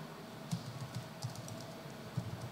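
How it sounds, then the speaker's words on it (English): Quick, irregular clicks of typing on a computer keyboard during a conference workshop, close by and fairly soft against a steady room hum, with no talk. "Keyboard."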